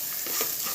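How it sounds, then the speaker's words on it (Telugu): Dried prawns fry in hot oil, giving a brief, even hiss of sizzling at close range with a slight swell midway, no voices. "ఒక 2-3 నిమిషాలు అయితే ఖచ్చితంగా నూనెలో రొయ్యలు అయితే వేయించాలి."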